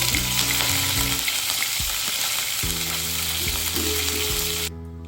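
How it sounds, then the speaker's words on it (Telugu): Dried red chillies and curry leaves sizzling in hot oil in a pan, a loud continuous crackling fry with a few clinks and stirring sounds, the sizzle dropping off abruptly at the very end. "ఎండుమిర్చి వేసుకుందాం. కరివేపాకు కూడా వేసుకుందాం."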